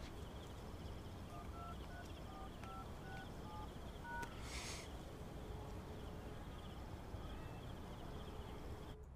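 Faint keypad tones beep one after another as a borrowed mobile phone is dialed, a series of short evenly spaced tones over a low background hum, with a brief burst of noise in the middle and no speech.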